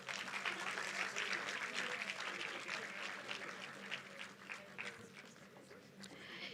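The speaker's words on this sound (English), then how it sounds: "Let's give them a huge round of applause" Applause from an audience at a university anniversary celebration, fairly faint and distant, a steady patter of clapping that gradually tapers off.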